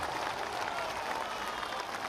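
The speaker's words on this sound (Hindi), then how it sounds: "तो बजाइए जोर से ताली।" Steady, dense applause from a rally crowd at a Bihar political speech about lifting the liquor ban, a continuous wash of many hands clapping at moderate distance with no talk over it.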